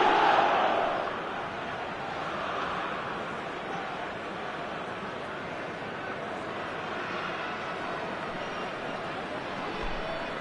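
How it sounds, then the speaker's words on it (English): A large football stadium crowd calls out in a broad, distant roar that swells briefly at the start and then holds steady, with no voices standing out. "The crowd are calling for this to be put to bed."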